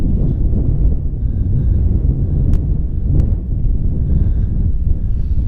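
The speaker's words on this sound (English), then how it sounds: "the wind is picking up" Steady loud wind buffets the microphone at an outdoor shooting range, a continuous low roar filling the whole stretch with two brief sharp cracks partway through.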